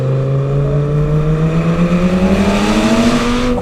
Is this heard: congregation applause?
no